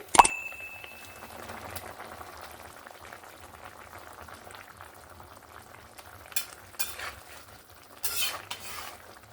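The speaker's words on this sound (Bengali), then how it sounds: "জলটা দেওয়ার পরে ভালো করে 2-4 বার নাড়িয়ে নিলাম। তরকারিটা এখানে ফুটে উঠেছে।" Fish curry with brinjal and bitter gourd bubbling softly in a pan, a faint low simmer broken by a sharp utensil clink at the start and a few stirring scrapes later.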